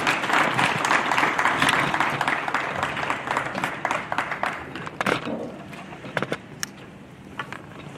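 A crowd at an official equipment handover ceremony applauds a minister. Dense clapping thins after about five seconds into scattered individual claps.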